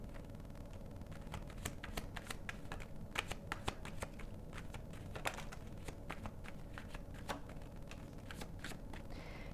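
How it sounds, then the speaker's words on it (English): Tarot cards are shuffled by hand nearby, a continuous run of crisp papery riffles and soft slaps with irregular sharper clicks throughout, fairly quiet and with no voices. "these cards are kind of shuffling weird"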